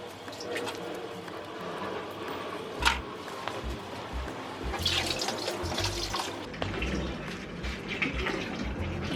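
Water runs steadily from a tap to top up the tank of golden apple snails, splashing continuously and close by with no break.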